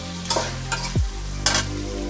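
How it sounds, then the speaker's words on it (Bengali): Chicken is sautéed in a pan for a spicy red curry, giving a soft sizzle with a few brief scraping stirs and a low thud in the middle, no voices. "একটু কষাতে হয় বেশি করে, এটা মাংসটা এমনভাবে কষানো হবে যাতে বেশি জল না দিতে হয়"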